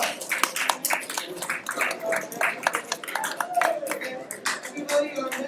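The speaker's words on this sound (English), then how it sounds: "Please give our panelists a round of applause." A small audience at an ACLU of Broward annual meeting claps for the panelists, giving a round of applause of sharp, uneven hand claps that swell and thin out over several seconds, close and fairly loud with no talk over it.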